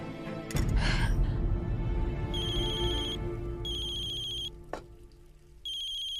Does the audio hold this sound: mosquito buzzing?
no